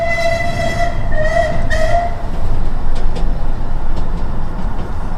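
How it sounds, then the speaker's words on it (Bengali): A train sounds several long whistle blasts while its heavy rumble rolls on, then it keeps rushing past with a steady roar and clattering wheels. "একটা ট্রেন হুইসেল বাজিয়ে ছুটে যায় দুপাশের লম্বা ঘাস ঝোপের মধ্যে তীব্র আলোড়ন সৃষ্টি করে ঝড়ের গতিতে"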